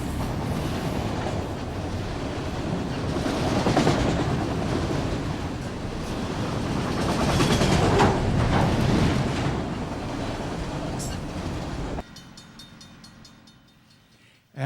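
A Norfolk Southern manifest freight train, number 196, with containers and boxcars rolls past close by in a loud sustained rumble of wheels and cars, then cuts off abruptly near the end, no talking.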